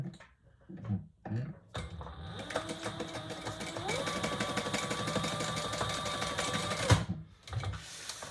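A sewing machine stitching up one side of an architect wallet, starting after a few soft handling knocks and then running in a fast steady mechanical whir with ticking needle strokes for about five seconds before stopping, close and alone.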